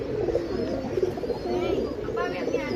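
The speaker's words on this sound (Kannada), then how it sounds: "ಇದು ಬಂದ್ಬಿಟ್ಟು ಗುಲ್ಜಾರ್ ಗಂಡು, ಸಿಂಗಲ್ ಟೆಲ್ಲಲ್ಲಿ ಇರೋದು" A male Gulzar pigeon coos in low, rolling, repeated murmurs close by, with faint higher chirps in the background.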